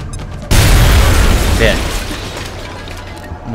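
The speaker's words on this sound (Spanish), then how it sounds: "Va, venga, la última granada" In XCOM: Enemy Within, a grenade explodes with a sudden loud, deep boom that rolls into a long rumbling decay over about three seconds.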